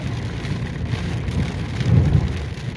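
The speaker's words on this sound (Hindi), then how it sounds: "बारिश जो है आहिस्ता आहिस्ता तेज़ होता जा रहा है बहुत ज़्यादा ही।" Heavy rain pours steadily outdoors near a ring road, a dense, loud hiss with a heavier surge near the end, and no voices are heard.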